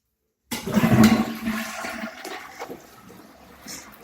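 An apartment toilet with an old supply line flushes close by, starting abruptly with a loud gurgling rush that fades into a softer refilling trickle.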